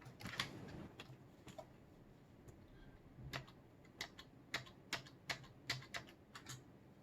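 Computer keyboard typing at a desk beside a Dell Inspiron 3670 desktop PC, a run of quiet, sharp key clicks in irregular bursts that turn denser and more rhythmic toward the end, with no talking.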